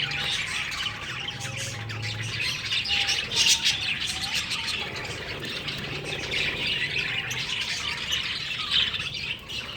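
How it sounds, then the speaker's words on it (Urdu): Pet parrots, including rainbow parrots, squawk and chirp in an aviary, a steady chorus of shrill calls and tweets at moderate distance with no talking. "اس میں میرے کافی طوطے ہیں، کافی قسم کے ہیں"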